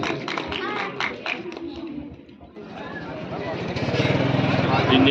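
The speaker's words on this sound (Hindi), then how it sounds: "दोनों ये पूरे गांव की तरफ से इनका सम्मान करते हुए जोरदार तालियों से एक बार इनका स्वागत करें।" Clapping from a crowd at a village Republic Day celebration in India builds after an announcer speaks, rising to steady, loud applause by the end, with chatter mixed in.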